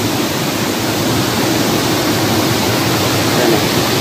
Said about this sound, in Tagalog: naririnig mo na yung ingay ng tubig na